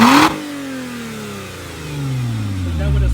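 A 2014 Lotus Evora S with a Larini exhaust, sport mode engaged, blips sharply, then its revs fall and climb again in a rising, throaty exhaust note, close and loud, alone without talk.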